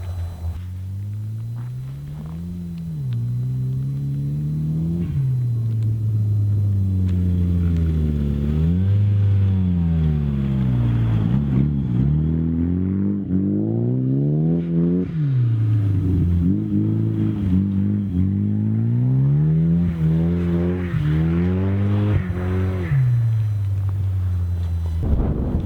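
A Talon rallycross car drives on a snowy track, its engine repeatedly revving up and dropping through rising and falling sweeps, loud and near, with a gap before the revving builds and wind buffeting the microphone; no one talks.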